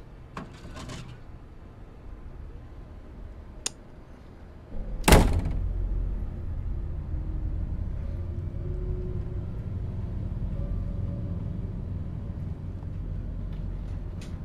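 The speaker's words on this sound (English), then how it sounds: "Oh, look, a door." Door in the horror game Madison, a single sharp thud or slam against a low ambient rumble, followed by steady dark hum; no talk.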